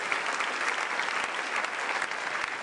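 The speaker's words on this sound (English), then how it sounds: "So if we can have a quick clap for Ed, who is not here." A university convocation audience claps steadily, a dense even wash of applause from many hands throughout, with no talking.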